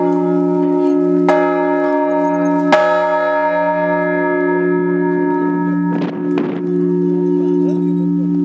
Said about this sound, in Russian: По окончании звона в самый большой колокол